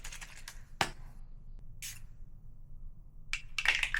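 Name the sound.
Fenty Beauty mist spray being sprayed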